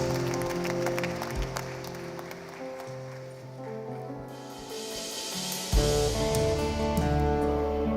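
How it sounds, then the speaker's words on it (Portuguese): A church congregation claps during worship, the applause spread and steady over sustained music, with no talk in between. "aplauda ao Senhor"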